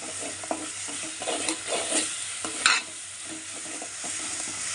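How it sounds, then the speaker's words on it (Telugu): Onions with turmeric are stirred in a frying pan for chicken curry, with a soft sizzle under scraping spoon strokes that rise and fall irregularly up close, and nobody speaks. "ఇలా మిక్సీ చేసుకోవాలి పసుపు యాడ్ చేసినాక"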